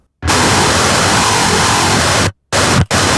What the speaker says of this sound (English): I've duplicated this tone without any cab, which sounds like this now